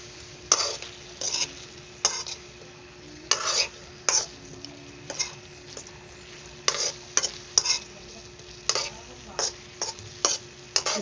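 Garlic and shrimp stir-frying in a pan, with a steady sizzle punctuated by sharp, repeated scrapes and clanks of a utensil stirring against the pan, close and fairly loud, no voices.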